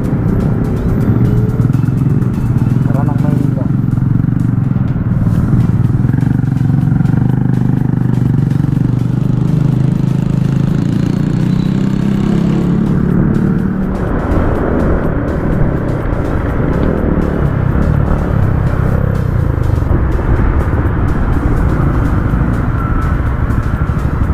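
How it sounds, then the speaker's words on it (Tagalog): Road traffic in Naga, with cars and motorcycles passing, makes a loud, continuous engine rumble and hum that holds steady throughout with no pauses. "Traffic na kasi Naga na."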